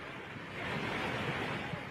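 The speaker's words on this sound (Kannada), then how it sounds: "ಅಣೆಕಟ್ಟೆ ಒಡೆದು ಹೋಗಿದೆ. ಅಪಾರ ಪ್ರಮಾಣದಲ್ಲಿ ನೀರು ಹೊರಗಡೆ ಬಂದಿದೆ." Floodwater rushes out after the collapse of the NTPC dam on the Rishiganga near Tapovan, a broad, steady roar of churning water with wind buffeting, loud and unbroken for two seconds.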